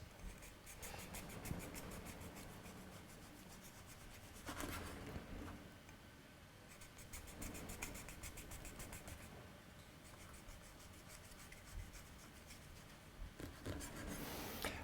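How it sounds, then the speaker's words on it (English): A knife saws through a loaf of bread in steady back-and-forth rasping strokes, close and fairly quiet, broken by brief pauses between slices, with no talk. "So we're going to cut our bread, and I'm going to cut it this way"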